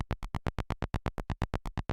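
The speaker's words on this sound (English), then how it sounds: "So let's go for the echo again." Electro funk drum beat processed with a stereo echo delay, a steady run of punchy repeated hits with tails bouncing between channels, clean and close with no voices.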